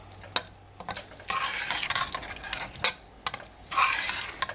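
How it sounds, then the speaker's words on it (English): A spoon stirs milk into potatoes in a pot, scraping and sloshing in close, uneven strokes with clinks against the side. No voices are heard. "And I usually add a good half a cup of milk right in the beginning. And stir it up real good."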